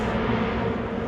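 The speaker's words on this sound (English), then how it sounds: "It's that's a motorcycle up on Lakeshore Drive," A distant motorcycle on Lakeshore Drive at Lake George, about 200 yards away during Americade week, a steady low engine drone heard far off and unbroken.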